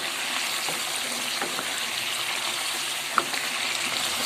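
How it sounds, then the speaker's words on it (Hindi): Masala is roasted gently in a kadai for a mutton and kachnar curry, making a low, continuous frying hiss with soft scraping stirs and one small sharp click. "ये कढ़ाई में मैं इसको थोड़ा हल्के हाथ से भून रही हूँ।"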